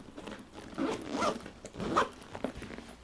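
Close YKK zipper sounds on a travel bag, two or three drawn-out rasping pulls with short pauses between them, no voices.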